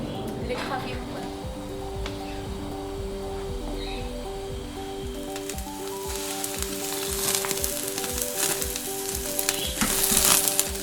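Sausage sizzling steadily on a TP gas braai, a continuous close frying hiss that grows a little louder toward the end, with someone talking over it throughout.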